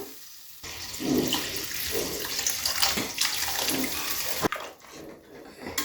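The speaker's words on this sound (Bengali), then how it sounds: "আর একটু জল দেবো কেননা আলুটা সেদ্ধ হওয়ার জন্য।" Water pours into a cooking pot of potato and eggplant curry being made with tangra fish, a steady splashing rush running for several seconds before cutting off, close and fairly loud.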